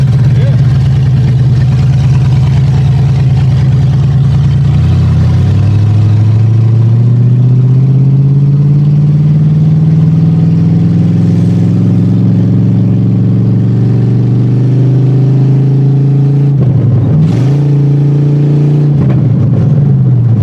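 A Ford Granada's engine runs loud and close, its low drone rising and falling through revs with a couple of sharp dips, as someone talks over it.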